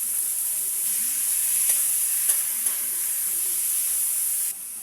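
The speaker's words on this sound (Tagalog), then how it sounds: "Gigisa na natin labong." Bamboo shoots sauté in a hot pan, giving a steady loud sizzle and hiss with a few light stirring clicks throughout.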